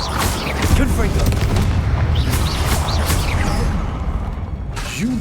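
Confringo spell explosions in the Hogwarts Legacy video game land as repeated deep booms and blasts. They are mixed with whooshing spell effects and clattering game sounds.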